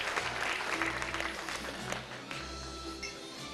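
Audience at a convention masquerade applauding award winners, a busy spread of clapping that thins toward the end, under a low hum and some faint voices.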